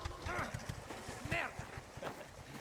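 Horse hooves clip-clopping at a steady walking rhythm in the Mafia: The Old Country game, with a horse snorting or whinnying, while people talk over the hoofbeats.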